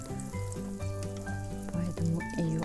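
Yakut flatbread fries in oil in a hot frying pan, giving a soft, continuous sizzle heard close up, with steady tones running underneath.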